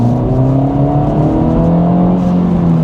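A 2024 Acura Integra Type S revs hard under full throttle, a loud, steady engine drone rising in pitch heard from inside the cabin with no talk.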